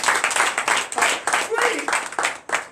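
A church congregation at a Sunday service in Comè, Benin, breaks into rhythmic group clapping, bursts of hands striking in a steady beat, loud and close, with voices calling out over it.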